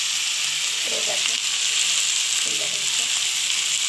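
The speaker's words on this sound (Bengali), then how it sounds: "টমেটো দিয়ে দিলাম, টমেটোটাও ভেজে নেবো ভালো করে" Tomato frying in a pan, a steady bright sizzle with soft stirring scrapes, continuous and close throughout.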